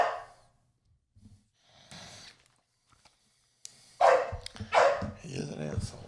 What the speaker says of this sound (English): Goddamn dog.